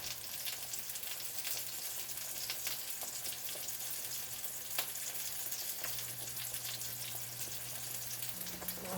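Hamburger patties fry in a pan with a constant close-up sizzle and crackle, a low steady hum running underneath and no talking.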